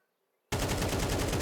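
AK rifle fire in a Counter-Strike match, a sudden loud burst of rapid automatic shots that starts abruptly after a brief silence and continues steadily.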